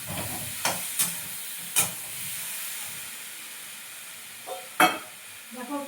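Chunks of bottle gourd and Chandramukhi potatoes cooking in a pan, giving a steady low hiss and sizzle with a few sharp scrapes and clinks of a stirring utensil.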